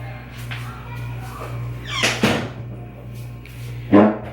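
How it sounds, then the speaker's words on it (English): Household door swung shut in a room, a couple of soft thuds and a firmer knock near the end over a steady low hum, with faint rustling between. "Let me close my door."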